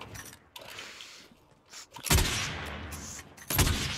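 Gunfire in the video game Call of Duty Warzone: a few scattered faint reports early on, then two loud, sharp bursts of shots close by, separated by a short pause.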